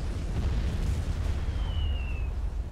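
Artillery shells burst in the Supreme Commander: Forged Alliance strategy game, from UEF artillery. A continuous deep rumble of explosions rolls on throughout, with a thin whistling tone sliding past midway.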